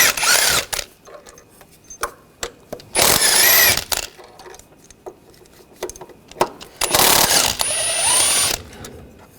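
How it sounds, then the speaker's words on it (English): A ratchet with a 15mm socket works loose three bracket bolts on a 2013-2022 Buick Encore 1.4L L4 engine during a water pump replacement, heard as several bursts of rapid clicking separated by quiet pauses. "Now using a 15mm socket, we're going to take these 3 bolts out on this bracket."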